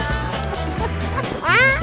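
A dog barks in short, rapid yips close by, a few quick barks, the last one sharper and higher, with a low engine hum from a car running underneath throughout.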